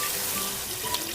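Water running steadily from a kitchen tap into a sink during cooking of Filipino dishes, a continuous close hiss and splash with no talk.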